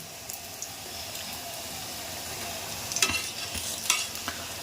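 Snacks frying in a pan give a soft, steady sizzle, with a few brief louder scrapes and clinks near the end, and no one talking.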